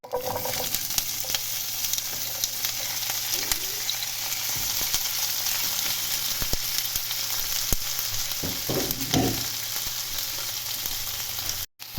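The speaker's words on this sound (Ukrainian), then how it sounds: "зараз все це буду закидати в сковорідку" Roughly chopped vegetables fry vigorously in a pan with a little oil, a dense, constant sizzle with crackling, and occasional stirring scrapes, close and steady until a sudden cut near the end.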